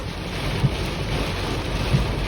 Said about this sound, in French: C'est incroyable, les rafales de vent monstrueuses.